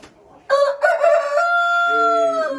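Goliath hybrid chickens on a farm in Sonou, Abomey: a rooster gives one loud, near cock-a-doodle-doo that stretches into a long sustained note, then a lower call overlaps at the end.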